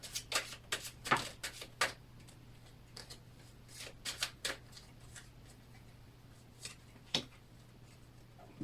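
Oracle cards being shuffled by hand, a series of soft papery riffles and flicks in irregular bursts, close and fairly quiet with no talking.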